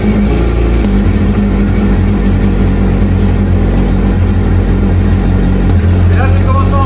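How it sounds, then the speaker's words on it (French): A jet ski engine running on a water flush during maintenance out of the water, a loud continuous motor drone with slight shifts in pitch and rough idling throughout. "Je démarre et j'envoie l'eau directement."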